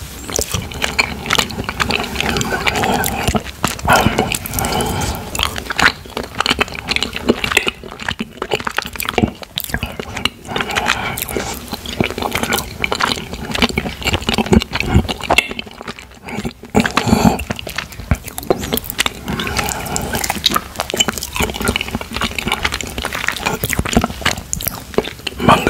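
Mochi mango ice cream being bitten and chewed right at the microphone: dense, continuous wet, sticky chewing and squishing with soft smacks, close and loud throughout.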